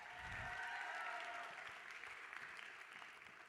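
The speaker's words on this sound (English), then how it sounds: "Give him a round of applause" Applause from the audience at a cosplay championship, a steady wash of many hands clapping that holds for several seconds and then gradually thins, heard from a distance in a large hall.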